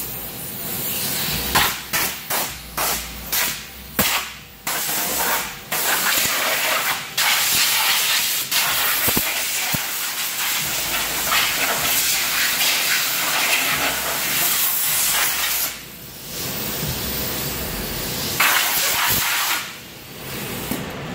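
Compressed air blasts in short, loud hissing bursts while blowing off a DMAX hood vent, with rapid pulses early on, then longer sustained blowing and a few more bursts near the end.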